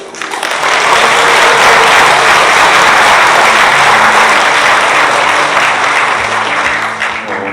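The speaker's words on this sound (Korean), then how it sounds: "우리 모두 신부님을 뜨거운 환영의 박수로 모시겠습니다" A church congregation gives a loud, sustained round of applause to welcome a priest arriving for an Advent lecture. The dense clapping swells quickly and holds steady before tapering off.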